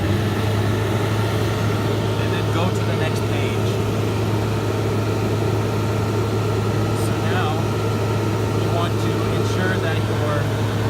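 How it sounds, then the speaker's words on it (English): A Toro 5800-G sprayer engine runs steadily at full throttle, a constant loud droning hum with a strong low tone throughout, while a person talks over it. "Then you want to set your engine to full throttle."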